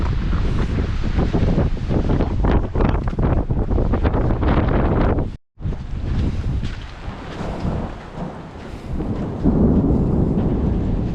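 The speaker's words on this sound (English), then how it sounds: "thunderstorm has started" Heavy rolling thunder from a mountain thunderstorm near Duck Pass rumbles continuously, loud and deep, mixed with gusty wind buffeting the microphone, with one brief moment of silence midway.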